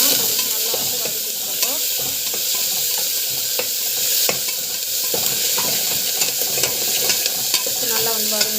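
Garlic and chana dal sautéing in oil in a pan, a steady close sizzle with frequent stirring scrapes and clicks running throughout, no talking.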